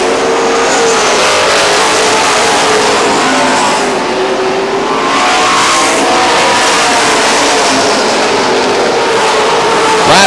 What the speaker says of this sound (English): we've got single file racing all across the track right now